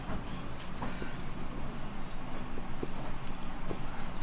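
Pen writing on paper while working a Class 10 polynomials maths problem, a steady scratchy scribbling that runs continuously at close range with no voice over it.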